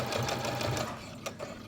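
Sewing machine making a short back stitch over elastic, a brief close run of rapid stitching that slows and pauses, with a soft click near the end.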